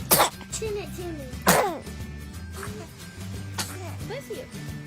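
A baby sneezes three times: short sharp bursts near the start, mid-way and later on. Soft background sounds fill the gaps, and no clear words are spoken.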